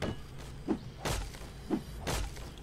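A bird's nest is struck repeatedly in 7 Days to Die, giving a steady series of soft thuds and crunchy breaking hits about every half second, close and alone.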